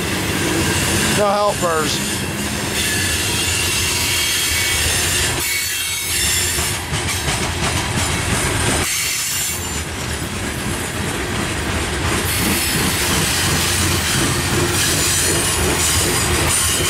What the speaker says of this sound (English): This train originates somewhere in Pennsylvania.